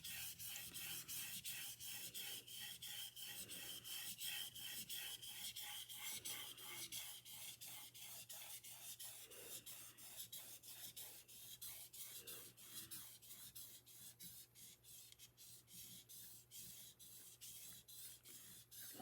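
A knife slides across a sharpening stone in quick, even strokes, a faint dry scraping rhythm heard close and alone throughout.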